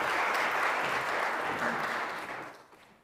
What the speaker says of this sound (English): I want to give him another round of applause